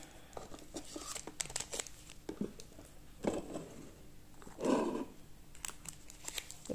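Pokémon card booster packs being unwrapped by hand from an ultra-premium Charizard collection box, with close crinkling and tearing of foil wrappers in short bursts and one louder rustle, no talk.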